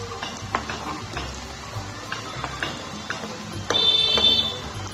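Banana flower dhoka, a lentil-based cake, frying in oil in a pan, with a steady sizzle broken by repeated clicks and scrapes of a utensil and a brief louder burst near the end; no one speaks.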